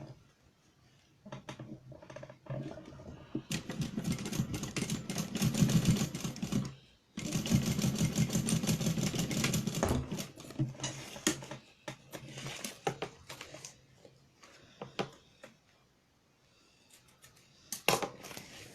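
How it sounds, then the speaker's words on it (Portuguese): A sewing machine topstitches a seam on a women's fanny pack, running in long bursts of fast, steady stitching with a brief pause partway through, then slowing to quieter intermittent taps near the end. "Vou rebater essa costura com o ponto número 5 e meio pé de máquina."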